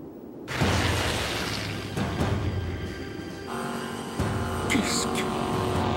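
An aircraft engine roars up for takeoff in an animated flight-school show, a loud sustained rumble and whine building steadily, with a voice speaking over it.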